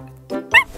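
A cartoon sick puppy gives two short barks, a softer yelp followed by a louder, sharper one, close and clear with no talk over them.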